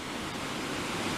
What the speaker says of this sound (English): There's the waterfall, right there.